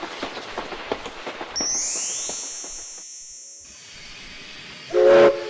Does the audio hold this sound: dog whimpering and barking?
no